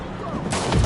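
Video game gunfire, a quick burst of loud shots that rings out close and sharp over a steady rumble of action, lasting under a second.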